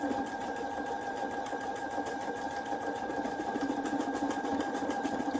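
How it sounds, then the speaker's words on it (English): A small handheld button-sewing gadget stitches a button onto fabric, giving a steady, fast mechanical whir with a rapid rattling pulse that runs evenly and fairly close throughout, with no talk over it. "I'm going to show you my little gadget that sews buttons on."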